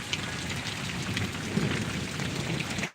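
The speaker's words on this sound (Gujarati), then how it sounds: "વરસાદ ભૂકા કાઢી નાખે એવો પડે" Heavy rain pours down steadily over Parvadi village in Gariyadhar taluka, a dense, loud, close roar with faint rumbling underneath, cutting off abruptly near the end.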